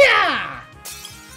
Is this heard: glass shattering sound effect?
yes